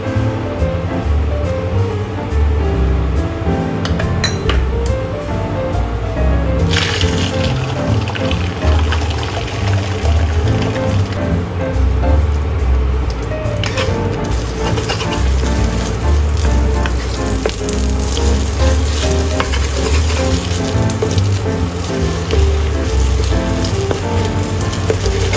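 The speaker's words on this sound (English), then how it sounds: "Scramble egg and set aside." Egg scrambles in a hot frying pan while cooking black pepper sauce fried noodles, giving a loud, continuous close-up sizzle and crackle with occasional scraping through the whole stretch.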